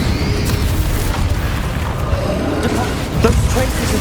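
A Bombarda spell goes off in Hogwarts Legacy during a dragon fight, a dense, booming blast with a rumbling low roar that fills the scene, with a sharper burst near the end.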